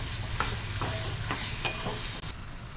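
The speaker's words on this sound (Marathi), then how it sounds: "आता आपण यात टॅमॅटो टाकून घेऊ, एक चिरलेला टॅमॅटो। तो पण छान मऊ होईपर्यंत परतवून घ्यायचा।" A pan of chopped tomato frying steadily, the loud close sizzle punctuated by several soft scrapes of stirring, ending with a brief cut and a metallic tap, and no one speaking.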